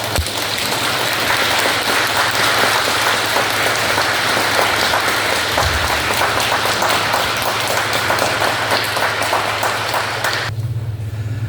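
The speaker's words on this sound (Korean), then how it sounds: "우리 신부님 뜨거운 환영의 박수로 인사드립니다" Sustained audience applause welcoming a priest at an Advent-Christmas lecture, a thick steady wash of many hands clapping, loud and near, continuing unbroken for about ten seconds before cutting off abruptly.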